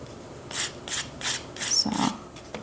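Hard gel nails being filed with a nail file: about five rhythmic rasping strokes, evenly spaced and close, with a duller scrape near the end and no talking.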